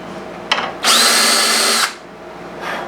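A power drill spinning a bit to cut a small fret marker hole in a guitar fretboard: a short whir, then a loud sustained buzz of about a second, and a faint later spin-up.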